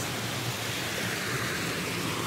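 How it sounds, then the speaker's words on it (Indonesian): Steady rain falls outdoors during a shopping trip in Hong Kong, making a dense, even hiss that fills the scene without pause or voices. "Hujan."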